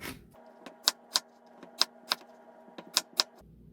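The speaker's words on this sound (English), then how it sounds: "now you want to cut it into cubes" A knife cutting winter melon into cubes: about eight sharp, close taps on a cutting board in an uneven rhythm over a faint steady hum.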